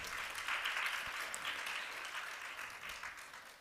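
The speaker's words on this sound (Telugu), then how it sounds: "చప్పట్లు కొట్టి దేవుని స్తుతిద్దాం." A church congregation claps together in praise, a steady burst of applause heard faint and somewhat distant, fading slightly toward the end.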